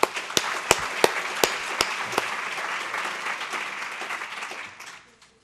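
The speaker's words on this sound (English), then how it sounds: "let's give her a round of applause." At a breakfast business update event, an audience gives a round of applause. A few sharp, close claps stand out early, then steady dense clapping follows for about five seconds before it quickly dies away.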